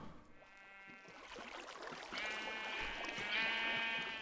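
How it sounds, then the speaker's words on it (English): Several sheep bleat in Minecraft, overlapping wavering calls rising over a soft ambient background, growing louder toward the end. "That's a lot of sheep nearby."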